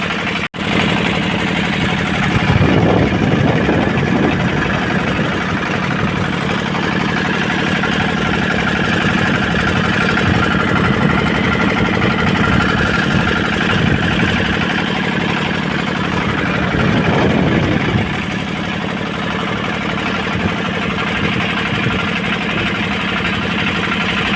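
A motor boat engine drones steadily on a river crossing from Kalitola ghat, Sariakandi, Bogura, Bangladesh, to a char in strong wind and rain, a loud continuous low hum with even rhythmic throb throughout.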